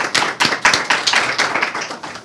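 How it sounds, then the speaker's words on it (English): A small audience applauds guests after a lecture on New Orleans and its medieval revival, a short burst of close, fairly loud hand clapping with distinct individual claps, no talking. "So how about a round of applause for our guests?"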